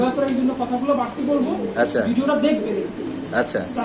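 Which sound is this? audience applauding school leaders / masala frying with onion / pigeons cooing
pigeons cooing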